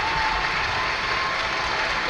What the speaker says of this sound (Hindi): जोरदार तालियां हम सबकी।